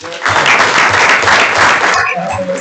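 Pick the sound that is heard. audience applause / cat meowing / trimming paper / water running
audience applause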